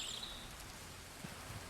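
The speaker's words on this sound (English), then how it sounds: "You can hear the rain in the background if you listen." Rain ambiance on a Palm Beach course in the golf game Action PC Golf, a soft steady hiss of falling rain with a brief bird chirp at the start and faint low thumps.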